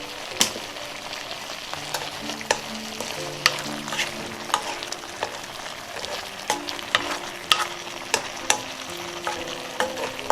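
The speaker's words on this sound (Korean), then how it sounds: "물이 자작자작 할 정도로 다 잘 볶아주었고요" Chonggak radish stir-fried in a pan with a little liquid, a steady sizzle punctuated by frequent sharp clacks and scrapes of a utensil against the pan, close and unaccompanied by speech.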